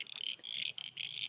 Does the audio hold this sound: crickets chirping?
yes